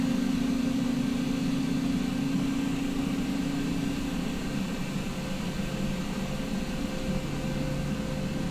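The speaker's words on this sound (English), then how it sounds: "what we're going to do is bring these throttles up to the idle position" The turbine engines of an AH-64 helicopter run through a cold start as the throttles come up to idle, giving a steady whining drone with a constant tone that holds throughout, heard from inside the cockpit without speech.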